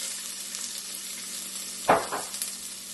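Onion frying with browned ginger and garlic in a pan for palak paneer gives a steady close sizzle, with a couple of sharper spatula scrapes or stirs near the end and no talk.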